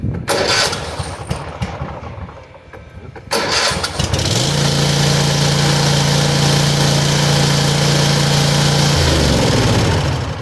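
A Cub Cadet ZT1 Ultima zero-turn riding mower with a 42-inch deck cranks and catches, then settles into a steady, loud idle close by, running alone without talk.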